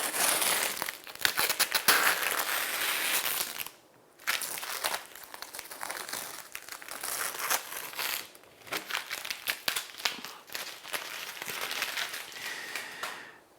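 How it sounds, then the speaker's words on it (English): Masking tape is peeled away from a finished painting of a coastal tower with crashing waves, giving close, crackly tearing and crinkling sounds in long strips with brief pauses. "We'll take the tape away."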